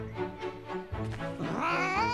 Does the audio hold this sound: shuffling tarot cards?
no